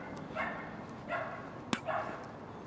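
A small dog gives several short, light barks and yips at a moderate distance on a morning street in Asakusa, Tokyo, spaced out in a brief irregular run over quiet background noise.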